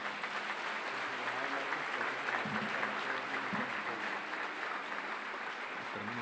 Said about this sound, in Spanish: Yo creo que ellos se merecen un fuerte aplauso